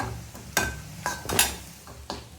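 A spatula mixing a pumpkin flower and egg thoran in a pan, a few separate scrapes and taps against the metal, close but fairly quiet, with no voices.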